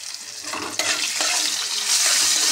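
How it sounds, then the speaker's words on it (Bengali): Tap water splashes steadily over shelled green peas being washed in a kitchen, a continuous broadband rush that swells a little louder partway through, with no talking. "কড়াইশুঁটিগুলো ছাড়িয়ে ছাড়িয়ে ধুয়ে নিচ্ছি।"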